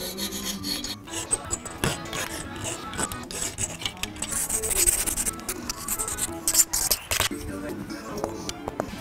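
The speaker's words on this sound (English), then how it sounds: "I'm gonna file this square." A hand file squares up a small metal block for a handmade knife. The filing is close and continuous, with fast scraping strokes and gritty rasps that get louder midway through.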